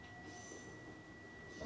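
A Super View Odoriko train rolling slowly into Ito station with a steady low rumble and faint high whine, ending in a brief metallic squeal as it nears a stop.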